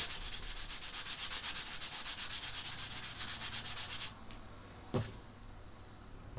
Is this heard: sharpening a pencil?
yes